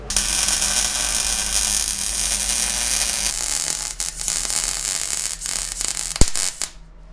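MIG tack welds on a custom steel rear bumper for a Polaris RZR Pro XP crackle in a dense, buzzing sputter for a few seconds, then stop into quieter shop clatter with a sharp click near the end.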